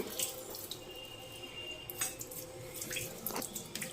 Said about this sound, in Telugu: ఈ టాప్లో నుంచి వాటర్ వస్తుందా లేదా అనేది ఫస్ట్ మనం చెక్ చేసుకోవాలి చూడండి మనకి ఇక్కడ వాటర్ కరెక్ట్ వస్తుంది